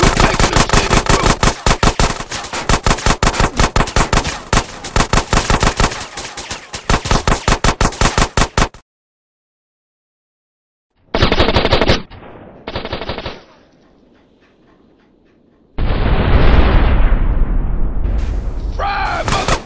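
Rapid bursts of automatic gunfire from Grand Theft Auto: San Andreas – The Definitive Edition, loud sustained volleys for several seconds, then silence, a few short shots and a rumbling in-game scene.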